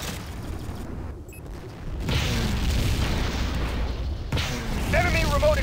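Explosion destroying enemy remote equipment in the video game Tribes 2, a broad rumbling boom mixed with ongoing game noise and chatter, moderately loud and sustained rather than a sharp single crack.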